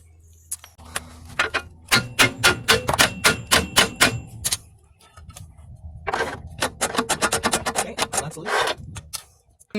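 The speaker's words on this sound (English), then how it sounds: "We're going to go ahead and hammer it." Sharp metallic hammer blows ring out against the lower ball joint of a smart car during a wheel bearing replacement, in two quick bursts of rapid, closely spaced strikes separated by a short pause.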